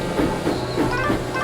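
Rheneas, a steam engine in the Trainz video game, puffs in with a rhythmic series of close chuffs about a third of a second apart over a steady rolling rumble.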